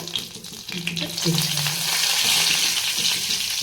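Two dry red chillies frying in a pan for a Bengali shukto give a loud, steady sizzle that swells after a brief quieter start, with some stirring and no speech.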